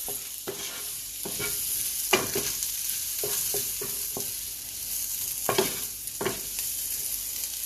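Shrimp sizzle steadily in a hot pan, with sharp scraping clicks and clatters of stirring scattered through the crackling, no talk.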